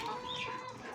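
Free-range native chickens cluck close by in a continuous, busy chorus of short calls with no talking.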